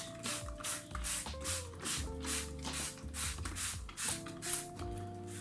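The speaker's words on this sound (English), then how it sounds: "Just spray it" A spray bottle hisses water onto sown cabbage and spring onion seeds in quick repeated bursts, about a dozen even pumps, close by, with faint background tones underneath.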